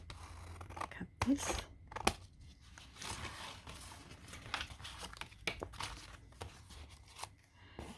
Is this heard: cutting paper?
yes